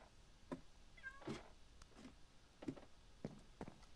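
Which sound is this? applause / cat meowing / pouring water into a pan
cat meowing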